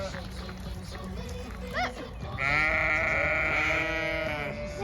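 Sheep bleating at an activity farm, a short call and then one long, loud, wavering bleat nearby over steady outdoor background noise.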